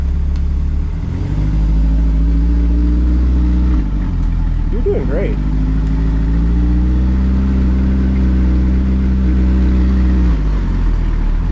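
A C8 Corvette engine hums steadily at low pitch, rising briefly as it strains and revs driving up ramps, with a person talking encouragingly over it.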